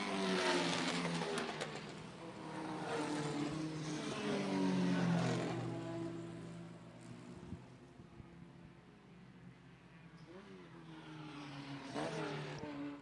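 2-liter sports racer race cars on a road course at Lime Rock Park, engines roaring past close by and then fading, a steady loud drone with pitch sweeps as the cars pass the start-finish line.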